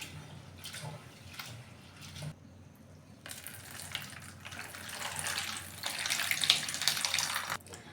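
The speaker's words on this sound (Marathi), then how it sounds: "आता आपण 2-3 पाण्याने धुवून घेऊ।" Tap water runs steadily over soaked moong dal being washed in a bowl, a close, continuous gush with a brief pause early on, then a fuller splashing flow with light drips.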